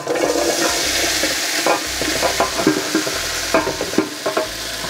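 Vegetables and rice for a large batch of chicken fried rice are stirred and fried in a big pan. Steady sizzling runs under repeated scraping and clanking stir strokes, close up, with no voices.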